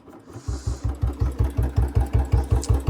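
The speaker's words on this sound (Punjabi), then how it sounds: "ਇੰਜਣ ਜਮਾਂ ਹੀ ਸਾਇਲੈਂਟ ਆ," A Royal Enfield Bullet motorcycle with a bent silencer idles close by, thumping in a slow, regular, even beat. A brief hiss sounds at the start, and no one speaks.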